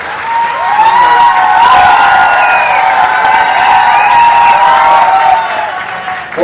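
Loud, sustained applause from a large crowd welcoming the chief minister at a public development ceremony in Sirmour, Rewa district, with cheering and whoops over steady clapping that holds for several seconds.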